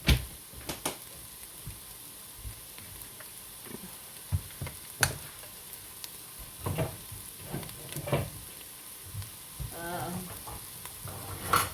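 Potato soup ingredients sizzle and fry in a pot, a steady hiss broken by scattered clicks and knocks of a stirring spoon against the pot.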